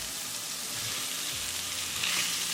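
Paneer stirred into tinda sabzi in a pan over medium gas, a steady close sizzle with a soft scrape or two as the pieces are mixed, no talking.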